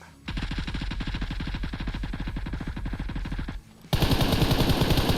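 Rapid automatic gunfire from PUBG Mobile rattles in a steady, loud burst of evenly spaced shots for about three seconds, stops briefly, then gives way to a dense, noisy blast of game sound.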